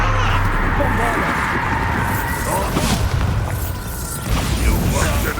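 Bombarda blasting spell explosion in Hogwarts Legacy: a loud booming blast amid dense combat noise with whooshing magical effects, and a voice speaks during the fight.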